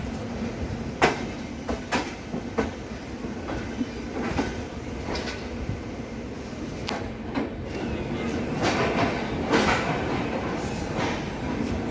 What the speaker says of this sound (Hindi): हमारी ट्रेन पहुंच चुकी है लखनऊ चारबाग रेलवे स्टेशन पे।